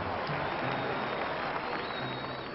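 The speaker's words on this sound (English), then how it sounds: "Garvey's address was met with great applause and much excitement." Audience applause and crowd noise after Marcus Garvey's address, a steady dense wash of clapping on an old, muffled recording, with possible voices mixed in.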